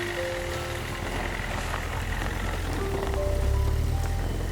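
Steady rain falls outside a Mumbai building near a waiting taxi, a constant hiss with a low rumble beneath it and faint tonal beeps drifting through.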